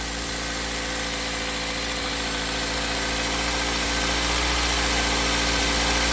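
A 2004 Toyota Matrix engine idles steadily after a coil replacement, a smooth, even low hum with a constant vibrating drone running unbroken throughout, close and alone with no talk.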